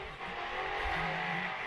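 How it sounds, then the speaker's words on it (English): Race cars do burnouts at a drift or tire event, a distant roaring engine and screeching tires blended into a continuous wash of noise, faint and steady throughout. "Sounds like we got some loser burnouts happening."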